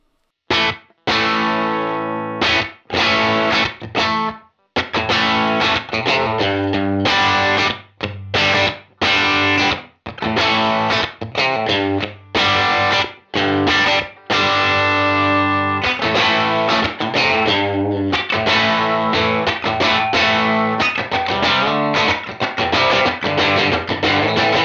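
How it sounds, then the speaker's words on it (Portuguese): Electric guitar played through a Universal Audio Enigmatic pedal, driven chords and notes ringing out continuously with a washy reverb tail filling the gaps, loud and steady throughout with no talking. "Esse reverb também que vocês estão ouvindo é dele"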